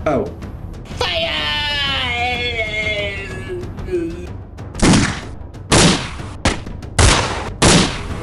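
Gunfire in a Halo versus Lego battle, arriving as several loud, abrupt bursts in the second half after a stretch of strained vocal sounds, with voices present.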